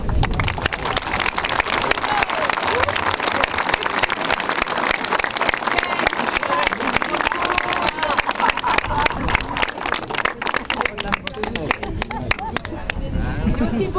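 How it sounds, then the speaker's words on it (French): Crowd applause at a tribute ceremony for cyclist Louison Bobet in Quiberon, a sustained dense clapping that fills the whole stretch, with voices mixed in. "sous vos applaudissements"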